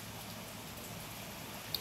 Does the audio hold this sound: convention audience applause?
no